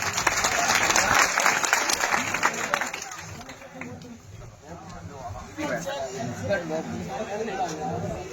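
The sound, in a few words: crowd applause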